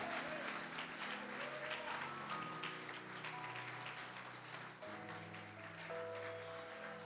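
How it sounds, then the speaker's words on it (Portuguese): Church congregation applauding during a worship service, a steady wash of many hands clapping, heard faintly and at some distance under sustained organ or keyboard chords. "Uma salva de palmas para o Senhor nessa noite"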